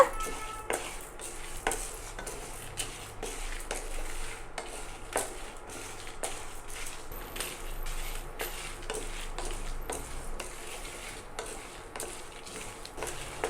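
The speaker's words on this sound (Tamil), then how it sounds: "ஸ்டவ் கம்மி பண்ணின்னு 5 நிமிஷத்துக்கு மேலே நிதானமாக நான் வறுத்துருக்குறேங்க" Urad dal and toor dal dry-roasting on a low flame: repeated spatula scrapes and ticks against the pan at a steady rhythm, moderately quiet and close, with a faint crackle and no talking.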